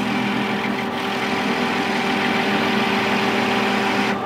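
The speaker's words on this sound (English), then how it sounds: "parting off stainless hexy bar without a tip tool is not one of my favourite occupations" A lathe parts off stainless steel hex bar, a steady continuous machine hum and drone with a faint cutting whine, close and unbroken.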